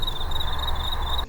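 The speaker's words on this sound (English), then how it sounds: "Your brain turns into a field of crickets." Crickets chirping in a field, a steady high, shrill trilling pulse repeating without pause, loud and close, ending abruptly.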